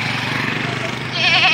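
A healthy goat bleats close by at a livestock yard, one wavering nasal bleat near the end over steady background noise and nearby human speech.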